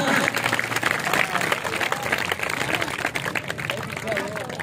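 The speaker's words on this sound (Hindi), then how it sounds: "बच्चे तालियां जोर से बजाएं, छोटे बच्चे के लिए जोरदार तालियां।" Children applauding a small child at an outdoor spring festival, brisk clapping mixed with crowd chatter and a few raised voices, moderately loud and steady.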